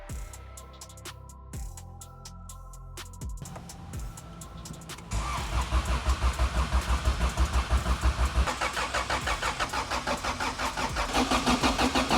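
A 1992 Honda Civic EG hatchback with a 600 hp turbo engine cranks several times, then fires up on its first start and settles into a loud, rough, pulsing idle, heard up close.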